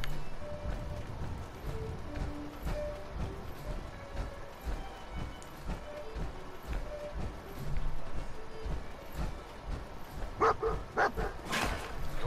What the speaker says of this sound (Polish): Dzikie pieseł.